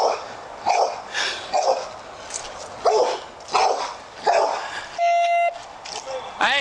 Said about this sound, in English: but the dogs are mauling the body